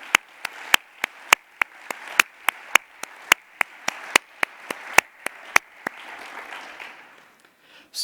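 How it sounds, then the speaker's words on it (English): Conference audience applauding AMS staff members, heard as sharp, evenly spaced claps in a steady rhythm over a soft murmur, which taper off into quieter room noise. "turn towards the audience, wave, let's give them a round of applause"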